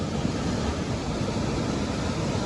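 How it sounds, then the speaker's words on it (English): Powerful waterfall at a famous dam in Wales, heard from right beside it as a loud, steady, broadband roar of rushing water with no pauses or voices. "Here we are now guys, right beside the waterfall now."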